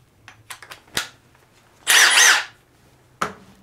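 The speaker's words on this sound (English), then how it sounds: "we're going to start with some simple drilling and stuff like that" Cordless impact driver, compared between a DeWalt XR DCF845 and a Milwaukee Fuel Gen 4, driving a 3/8 bit: a short loud burst of whirring hammering lasting about half a second, set between scattered clicks and knocks.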